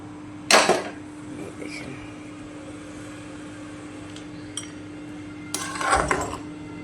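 Cooked goat meat curry is poured in a karai, marked by two short bursts of metal clatter and scraping close by, with a steady low hum and quiet gaps between.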